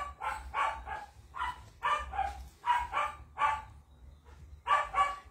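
A dog barks repeatedly at a moderate distance, about eight sharp barks in uneven bursts with short pauses and a low background hum.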